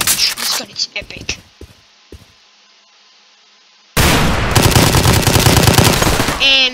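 A gun in the Roblox zombie game fires a long, loud burst of rapid automatic shots after a few seconds of short voice sounds and quiet.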